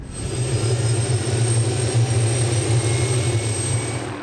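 A helicopter drones steadily overhead above high ground near elephants in a valley, a continuous low rotor and engine hum with a faint high whine, moderately loud and unbroken throughout.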